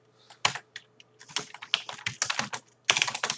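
Typing on a computer keyboard, rapid irregular bursts of clattering keystrokes with brief pauses, close and fairly quiet, no speech.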